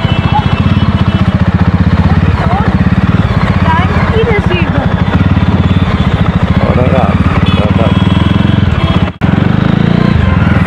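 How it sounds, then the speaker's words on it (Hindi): Jawa 300cc motorcycle being ridden, its engine putting out a steady, loud, close throb with a brief dropout near the end, while a rider talks over it. "फाइनली हम नॉर्मल जावा बाइक चला रहे हैं"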